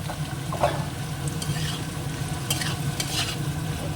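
Prawns and egg bhujia fry in a pan while being stirred: a steady sizzle under repeated scraping strokes of the spoon, close and moderately loud, with no talking.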